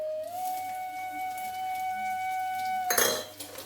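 Black cumin, chopped green chili and garlic get stirred in shrimp oil in a metal pan, a spoon scraping and clinking against the pan. A steady tonal whine runs underneath, then a burst of clatter comes near the end.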